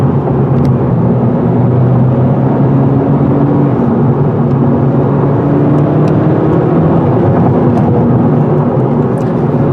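The turbocharged engine of a 2017 Honda Civic Si coupe accelerates on the road, a loud continuous rumble under strong road and wind noise, with the engine tones rising slowly through the run.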